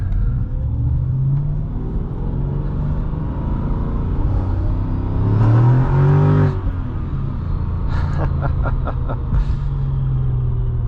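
A 2006 Mercedes-Benz E55 AMG W211 pulls hard under acceleration, heard from inside as a steady, loud, close engine drone and rumble that holds throughout with a brief surge in the middle.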